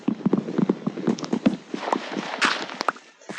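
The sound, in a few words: horse hooves in video game Minecraft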